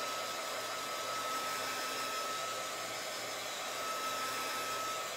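A hair dryer runs steadily at close range, blowing to dry a coat of Fusion Mineral Paint in Liberty Blue on a chippy-finished piece, a continuous whooshing roar with no talk.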